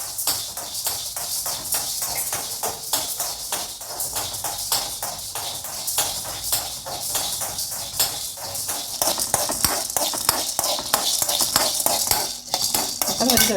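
Cowpeas being dry-roasted in a shallow pan, giving a steady run of rapid scraping and rattling as a utensil stirs the beans against the metal, fairly close and continuous with no talk.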